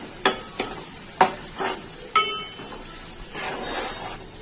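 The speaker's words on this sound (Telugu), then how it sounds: "ఆనియన్స్ వేగిన తర్వాత దీనిలో 2 పచ్చిమిర్చి, కొద్దిగా కరివేపాకు కూడా వేసుకొని వేయించుకుందాము" Onions, green chillies and curry leaves fry in a pan for a small fish curry. Sharp metal utensil clinks and scrapes come at intervals over a soft, steady sizzle.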